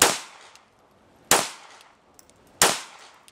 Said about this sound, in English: we fire some more rounds